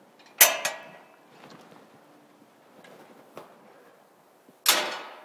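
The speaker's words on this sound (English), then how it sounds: "it comes with the swing gate, automatically closing swing gate" A self-closing swing gate on an Aichi SV3246C scissor lift clanks shut with two sharp metallic bangs roughly four seconds apart, faint creaks and rattles in between, close and loud.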